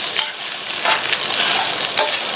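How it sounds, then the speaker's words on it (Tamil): Poha and potato upma is stirred in a pan over a low flame, with scraping spoon strokes and a soft, steady sizzle, close and without speech. "ஸ்டவ் சிம்மில் வச்சுட்டு இந்த அவல் உருளைக்கிழங்கு ரெண்டும் நல்ல ஒன்று சேர்ற மாதிரி கலந்து"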